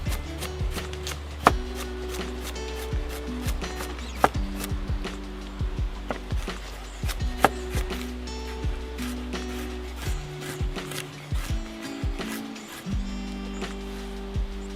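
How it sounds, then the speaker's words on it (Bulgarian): A carrot is chopped into pieces on a wooden board: a steady run of sharp knife strikes, close and distinct, in an irregular rhythm throughout, with no talking. "След чушката нарязваме моркова, като него просто го срязвам на 4 и след това също на парченца."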